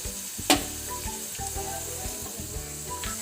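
Onion, whole panch phoron spices and garam masala frying in a pan for mutton curry, a soft steady sizzle with a sharp clink near the start and faint scraping stirs underneath.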